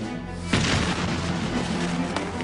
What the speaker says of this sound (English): Santa Anna's cannons slowly battered away at the walls of the fort.